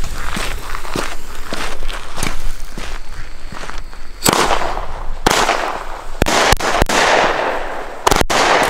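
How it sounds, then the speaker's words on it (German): An Argento ten-shot firework battery fires a sequence of sharp, loud cracks at irregular intervals, booming outdoors with crackling tails between the bangs. "Machen wir gleich mal weiter mit der anderen 10 Schuss Batterie von Argento."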